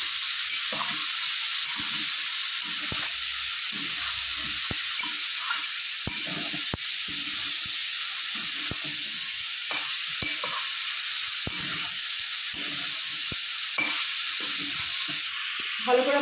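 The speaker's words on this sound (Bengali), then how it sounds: "ভালো করে মশলা দিয়ে সবজিগুলো আমি কষিয়ে নিয়েছি" Potato, pointed gourd and radish pieces sauté with spices in a pan for chorchori. A steady close sizzle runs throughout, broken by repeated stirring scrapes and clicks.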